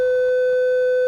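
A 500 hertz sine test tone sounds alone, steady and loud with an unchanging level, lasting just over a second.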